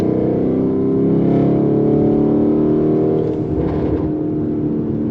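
A Lamborghini Urus with traction control switched off revs hard for a launch, its engine note loud, close and sustained with a deep steady roar that dips briefly near the end before climbing again.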